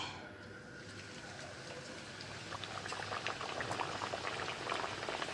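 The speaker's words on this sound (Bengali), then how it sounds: "এবার এমনি করে মটরশুঁটির কচুরিটা তেলে ছেঁকে" Pea-stuffed kachori deep-fry in a wok of oil with a busy, bubbling hiss that swells louder partway through and keeps up a steady frothy crackle.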